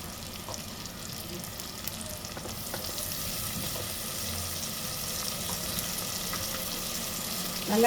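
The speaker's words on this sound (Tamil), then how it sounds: "இதை நல்லா இந்த எண்ணெயில் வெங்காயம் பச்சை மிளகாய் எல்லாத்தையும் நல்லா வதங்க விடணும்." Onions and chilies sizzle and crackle in hot oil, a steady, fairly quiet frying hiss with occasional pops and stirring sounds.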